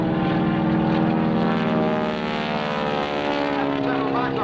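A World War II era propeller airplane roars steadily through an aerobatic loop at an air show, its engine drone loud and sustained with a shifting pitch, while an announcer talks over it.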